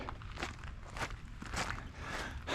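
Footsteps walk uphill through a forest after crossing wet, muddy ground, with about five steady crunching steps close by, alone with no talk.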